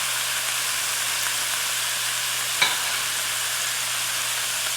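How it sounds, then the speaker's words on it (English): Onion, sun-dried tomatoes, oregano and garlic fry in a pan with a steady, even sizzle throughout and one brief small clink near the middle. "And I'm going to cook this down until everything becomes softened."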